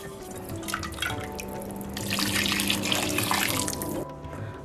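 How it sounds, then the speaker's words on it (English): Hot water pours into a pot of Jamaican oxtail in a home kitchen. The steady splashing stream swells in the middle and then stops, close and fairly loud, with no talking over it. "I'm gonna add another cup and a half of water"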